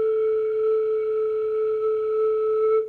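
Flute head joint blown softly with its open end covered by a flat hand, producing one steady, pure tone held for almost three seconds with faint overtones, sounding alone and close.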